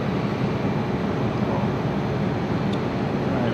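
Cooling fan of a BLC 2000 laser cleaning machine, a 2000 W unit, running as a steady, dense whooshing roar that holds constant in level throughout, close and fairly loud, with no voices over it.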